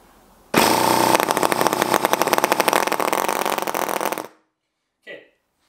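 A tiny NR-200 gasoline model engine starts abruptly and runs loud and close with a rapid, buzzing rhythm for several seconds before cutting out, followed by a brief faint sound.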